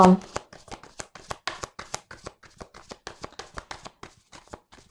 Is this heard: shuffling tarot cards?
yes